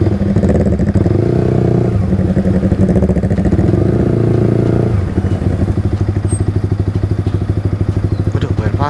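A motorcycle passes close by on an Indonesian street, its engine droning loudly throughout with a steady, chugging rhythm and a low pitch shift midway as it goes by.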